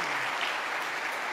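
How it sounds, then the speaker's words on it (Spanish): An audience applauds Antonio at a gathering, with steady, dense clapping that stays even throughout the short burst. "¡Un aplauso, Antonio!"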